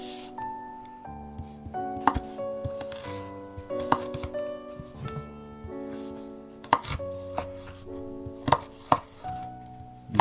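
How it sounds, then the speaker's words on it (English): Knife cutting a leftover carrot into julienne strips on a board, scattered sharp close knocks in short bursts over quiet background music. "Shred it. Do some julienne strips."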